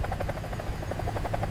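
A naval helicopter flies with a rapid, steady rotor chop over a heavy low engine roar, loud and close, continuing without voices.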